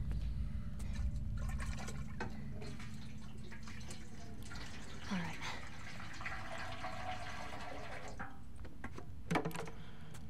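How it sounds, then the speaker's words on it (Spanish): Gasoline being poured in The Last of Us Left Behind, a quiet continuous liquid splashing and trickling that is soft and low, with faint background ambience. "Entonces echamos la fucking gasolina aquí"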